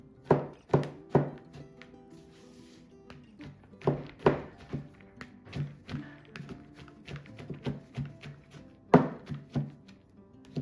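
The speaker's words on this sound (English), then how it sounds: "I'm just gonna do some chopping." Knife strikes on a cutting board, a quick burst of chops followed by steadier, evenly spaced taps, close and fairly crisp.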